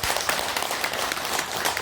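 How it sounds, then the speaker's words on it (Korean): A seated crowd at a Buddhist temple dharma assembly gives a short burst of applause: a continuous, fairly loud wash of many hands clapping, brief and unbroken throughout. "박수 한번 주세요."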